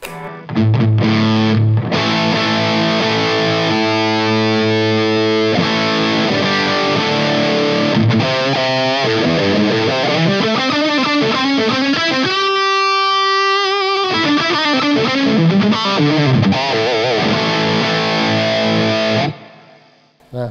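Electric guitar through a Laney GHR series amp at high gain, a thick, saturated distorted tone playing riffs and sustained bends continuously and loudly for about twenty seconds before cutting off.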